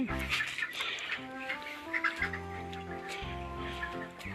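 Broiler chickens inside a poultry shed keep up a dense chorus of overlapping clucks and tonal calls, close and lively, with no talk.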